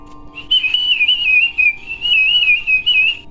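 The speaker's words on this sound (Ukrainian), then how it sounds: "Це глиняна свистулька, музичний такий інструмент." A single high, wavering clay whistle tone held for about three seconds, warbling slightly in pitch, close and fairly loud on its own.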